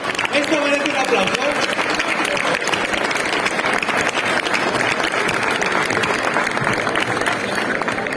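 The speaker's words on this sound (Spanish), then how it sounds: "esto merece un aplauso" Sustained applause from a crowd at a cheese auction for the winning Gamoneu cheeses, dense steady clapping for several seconds with talking mixed in.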